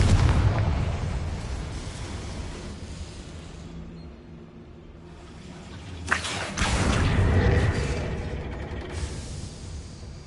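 Confringo blasting-spell explosions in Hogwarts Legacy: a low rumbling boom fades out, then a sharp burst erupts and a second rolling explosion swells and fades, with no talking.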